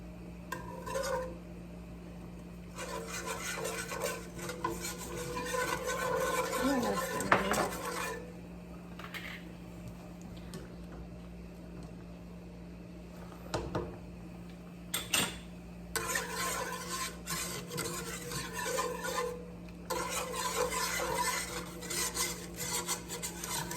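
Close, rasping scrapes of a utensil working crispy bits off a pan into a cup of fat-free 50/50 cream, coming in long rhythmic bursts separated by short quiet pauses over a faint hum.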